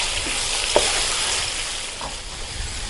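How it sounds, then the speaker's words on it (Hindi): Chopped onions and cumin seeds fry in a pan for aloo keema, giving a steady, soft broadband sizzle with a couple of faint stirring clicks and no talking. "ये डालकर इसको हम गोल्डन फ्राई होने तक भून लेंगे।"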